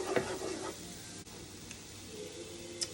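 Flour cooking in butter in a pot for loaded baked potato soup gives off a quiet, steady sizzle, with a few soft scrapes and stirring clatters near the start and a faint clink later.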